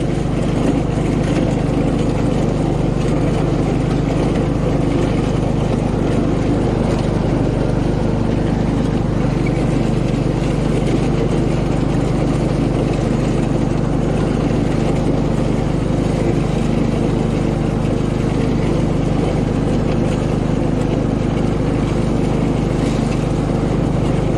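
A van's engine idles steadily at close range, a continuous low rumble holding an even pitch throughout with no talk over it.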